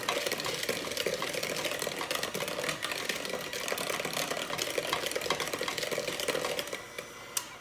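An electric hand mixer mashes bananas in a bowl for banana bread, a dense continuous buzzing whir with rattling against the bowl, loud and close throughout.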